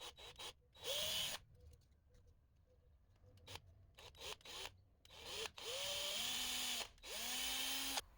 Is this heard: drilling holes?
yes